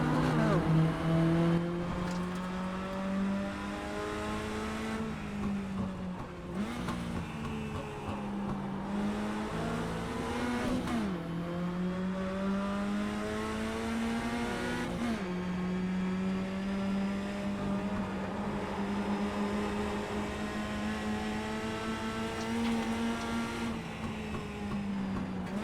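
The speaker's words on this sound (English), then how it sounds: "You can hear the leader take second gear through the last corner compared to my third gear." Mini Stock race car engines in iRacing at the Nordschleife drone continuously, pitch climbing through the revs and dropping at each gear change in a repeating pattern, with overlapping engine tones from nearby cars.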